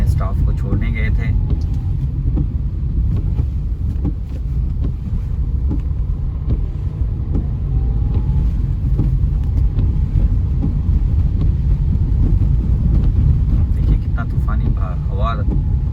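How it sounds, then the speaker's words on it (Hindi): Strong storm wind roars and buffets steadily from inside a moving car at night, with leaves blowing along the road and a heavy low rumble of wind noise throughout; someone talks over it. "अंधेरा है पर देखिए कितना हवा चल रहा है"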